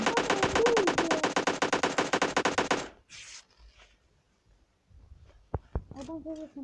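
Rapid automatic gunfire in PUBG Mobile Lite rattles loudly for about three seconds, then fades into faint scattered noises and a couple of sharp clicks near the end.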